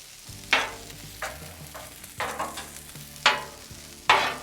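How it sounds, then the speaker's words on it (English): Minced garlic frying with rice in a pan sizzles softly while a spatula stirs and scrapes, making several sharp scraping strokes spaced irregularly over the steady frying hiss. "minced garlic going in. Fry that."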